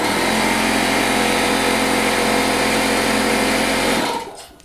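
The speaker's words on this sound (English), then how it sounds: "I want you to hear how the compressor is supposed to work at full voltage" An air conditioner compressor on full voltage runs with a loud, steady, buzzing mechanical drone, then winds down and stops near the end.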